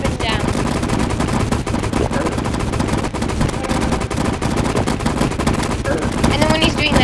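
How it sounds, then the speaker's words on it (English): In Terraria, The Twins boss unleashes green flames amid dense, continuous rapid-fire game effects and music, loud and unbroken throughout. "while he's shooting the green flames"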